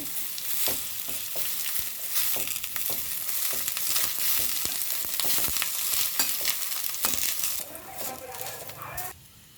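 Ridge gourd peel fries and sizzles steadily in hot oil in a pan, with repeated scraping and clinking of a spatula as it is stirred, close and fairly loud throughout.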